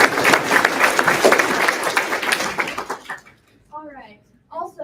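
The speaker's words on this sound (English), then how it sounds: "So can we also give them a round of applause?" Audience applause at a graduation ceremony, dense clapping from a seated crowd for about three seconds that then tapers off, followed by brief speech.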